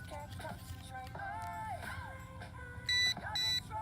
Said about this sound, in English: it'll beep like that when your session is finished.